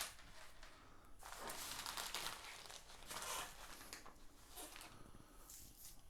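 Faint crinkling and rustling of a plastic zipper bag holding a window seal kit, opened and handled in a few soft bursts.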